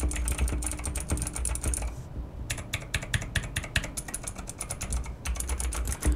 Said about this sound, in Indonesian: di sini gua mengetik menggunakan keyboard blue switch